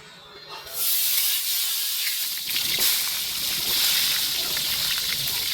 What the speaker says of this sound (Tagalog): habang piniprito natin yung okra at yung talong